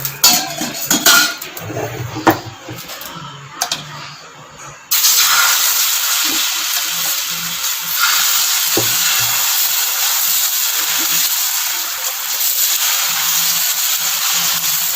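Tomato dosa batter hits a lightly oiled hot pan with a few utensil clinks first, then breaks into a steady, loud hiss of sizzling that holds to the end.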